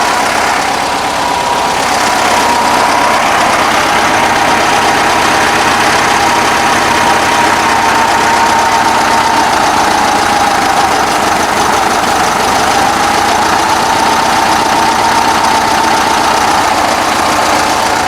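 A 1965 VW Bus engine idles steadily at about 950 RPM, a continuous close mechanical drone with no speech over it.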